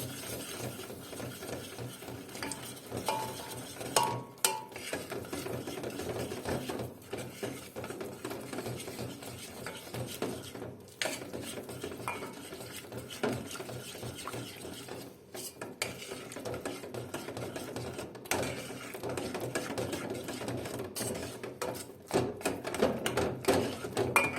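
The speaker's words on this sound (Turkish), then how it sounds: "Karıştıra karıştıra azar azar sütünü ilave ediyoruz." Spoon stirring a milk pudding mixture in a pot while milk is slowly poured in, a faint continuous scraping and clinking with small irregular knocks, close by and steady for the whole stretch.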